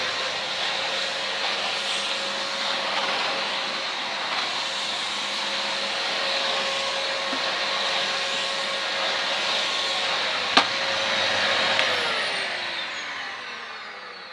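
Yellow Numatic NNV200 Nuvac vacuum cleaner running close by, a constant whining motor roar with a faint brief knock and a slight shift in tone near the end.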